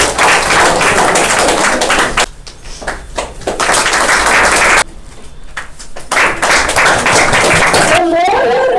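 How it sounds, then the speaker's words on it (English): An audience at a monthly rewards and recognition ceremony applauds a runner-up, dense sustained clapping filling the hall, briefly dipping before swelling again, with a voice at the end. "A big round of applause for our runner-up from Morning Batch, Vinesh Singh"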